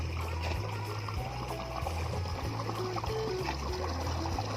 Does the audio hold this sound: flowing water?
yes